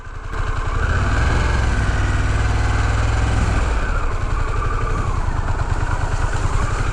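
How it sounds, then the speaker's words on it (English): Harley-Davidson Pan America adventure motorcycle riding off road, its heavy engine running loud and steady throughout with a deep low rumble and a dip in pitch midway. "we are on a very heavy motorcycle"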